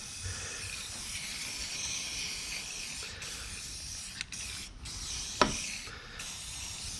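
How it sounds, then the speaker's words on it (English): A can of Rust-Oleum spray paint hisses steadily as it coats the exposed metal of a Jeep bumper winch plate. The even, close spray runs for several seconds with a few faint clicks and knocks. "So just got some Rust-Oleum, figure I'll hit it with it."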